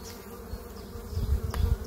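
Honeybee colony buzzing steadily in an open hive, a dense low drone that swells louder toward the end, with a brief knock partway through and no talk.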